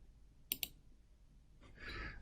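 Two quick, crisp computer keyboard key presses in close succession, close and fairly loud against near silence, followed by a soft breathy exhale.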